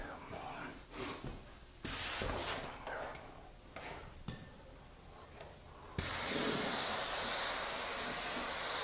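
A spray gun set to low fluid and low pressure lays down a finish. Quiet handling noises and soft bumps come first, then a loud, steady, close hiss of spraying sets in and holds to the end.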